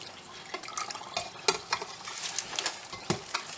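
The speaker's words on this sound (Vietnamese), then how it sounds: "Lan khuấy cho nó tan ra." A mixture of coconut milk and pandan leaf juice with sugar stirred in a bowl, giving soft scraping and clinking of a utensil in an irregular rhythm, close and fairly quiet, with no voices.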